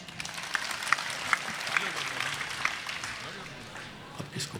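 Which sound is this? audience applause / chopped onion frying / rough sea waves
audience applause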